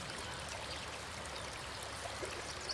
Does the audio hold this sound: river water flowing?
yes